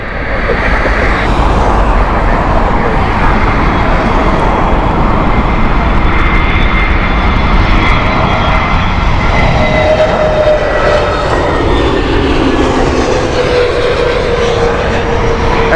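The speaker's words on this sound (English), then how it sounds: "we've got British Airways with the Lyon flight and Airbus A320 Neo" A British Airways Airbus A320neo jet at Heathrow Airport roars loudly and steadily throughout, with a broad engine rumble and whine whose pitch shifts partway through, and no voices.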